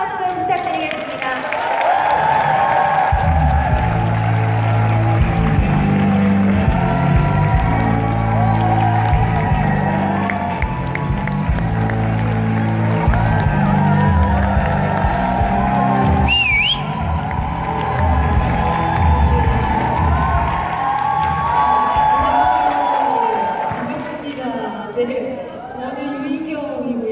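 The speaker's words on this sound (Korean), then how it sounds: "뜨거운 박수 부탁드리겠습니다" An audience at a Korean talk event on communication and empathy applauds and cheers steadily for about twenty-five seconds, a dense wash of clapping that welcomes a female newspaper journalist and mentor to the stage.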